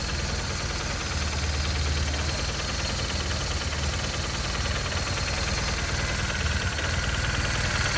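A BMW R1200RT motorcycle with about 35,500 miles runs steadily up close, its engine note holding an even, continuous drone for the whole stretch rather than rising in distinct revs.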